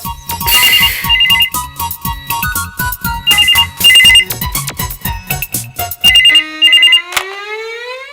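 Electronic phone ringtone in a home, a bright repeating melodic tone with rhythmic pulses and trills, loud and close, playing alone for several seconds before ending.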